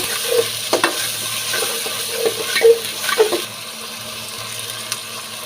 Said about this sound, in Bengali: তো আদা বাটা দিয়ে দিলাম। এখন আমি এগুলো একটু ভেজে নেব।